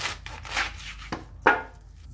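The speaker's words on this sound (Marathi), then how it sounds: "आता हे पालक असा कट करून घेतलाय" A knife chops spinach leaves on a cutting board in a home kitchen: a handful of close, crisp, irregularly spaced chops with soft rubbing sounds between them and no voices.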